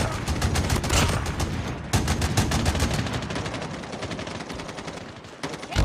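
Continuous rapid gunfire fills a Call of Duty Mobile hardpoint match, loud and dense automatic bursts layered with crackling shots, with no pauses and almost no voice.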